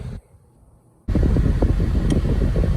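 A steady, loud rush of the air conditioning fan inside a 2001 Mitsubishi Mirage on a hot Florida day, cutting in abruptly after a brief quiet moment and running continuously.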